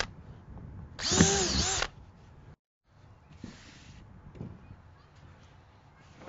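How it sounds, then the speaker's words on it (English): Powerful handheld power drill boring holes into the side of a plastic worm bin box, a loud whining burst of about a second followed by quieter handling noises and a fainter second run. "Ooh, it's a powerful drill."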